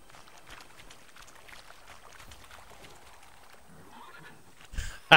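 A horse in the video game The Witcher 3 whinnies as it refuses to go into water, faint at first and then louder and closer, over a low, busy background of movement.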